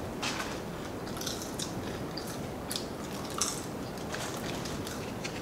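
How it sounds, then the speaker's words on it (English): Close, crisp crunching of a fried-chicken restaurant biscuit being chewed, repeated bites and chews in an irregular rhythm, alone without talk. "Y'all hear that crunch?"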